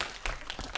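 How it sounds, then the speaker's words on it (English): An audience applauds in a short burst of scattered clapping that comes in uneven bursts, moderately loud and fairly close. "Applause."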